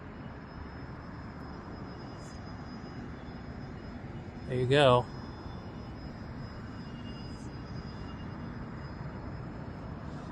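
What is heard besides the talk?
home-made Cub RC airplane flying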